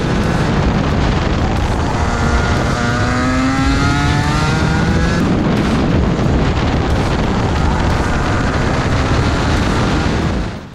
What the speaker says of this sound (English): You can see, and especially here, that the engine bogs down completely in these corners.